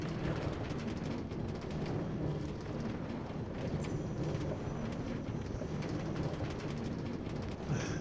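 A Minecraft train rolls along a player-built track with a steady, continuous rumbling clatter that stays even and fairly loud for several seconds, with no talking.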